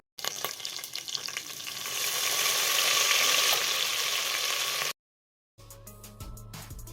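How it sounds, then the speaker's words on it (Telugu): Green chilies with shahjeera, fennel and mint sizzle vigorously in hot ghee and oil inside a pressure cooker, a loud, steady frying hiss that cuts off abruptly, then fainter kitchen clatter follows. "పచ్చిమిరపకాయలు వేగిపోయాయి"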